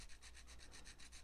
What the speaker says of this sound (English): So the art of level sanding a guitar is kind of like this.